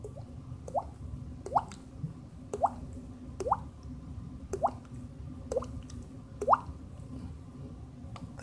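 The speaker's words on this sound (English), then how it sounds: "That's a faucet dripping." A faucet drips steadily indoors, each drop a distinct plop landing roughly every second in an otherwise quiet room, with faint low background noise underneath.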